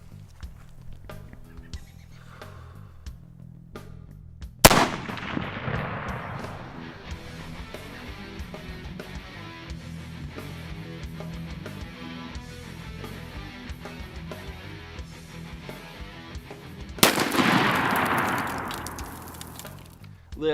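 A custom Mosin Nagant rifle fires at a target 200 meters away, with one sharp loud crack near the middle and a second near the end, each followed by a brief decaying echo over quiet outdoor background.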